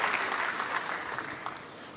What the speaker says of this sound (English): Could we have a huge round of applause from the audience,